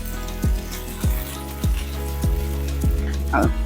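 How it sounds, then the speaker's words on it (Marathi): Medium-sized tomato pieces, cut into cubes, drop into hot oil and sizzle. About six distinct clattering hits fall roughly every 0.6 seconds over a steady crackle, with a brief metallic scrape near the end. "आता त्याच्यामध्ये टोमॅटोच्या फोडी घालूया"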